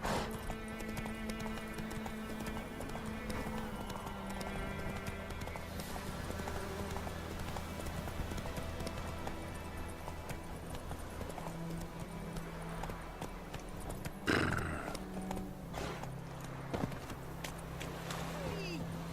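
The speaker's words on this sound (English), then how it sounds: "Run, Roach" Horse galloping in The Witcher 3: Wild Hunt, a rapid, steady clip-clop of hooves throughout with a brief whinny-like burst partway, set under game music and a voice speaking.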